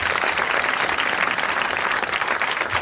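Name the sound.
TV studio audience applause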